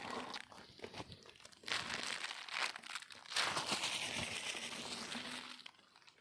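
A Klasek Celebrations Cracker K1000R paper firecracker strip of 1000 shots is unrolled by hand, giving a close, continuous crinkling and rustling of paper that swells and fades over several seconds.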